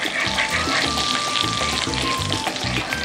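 Zucchini frying in butter in a pan, a loud, steady close-up sizzle with a faint rhythmic stirring pulse underneath and no voices.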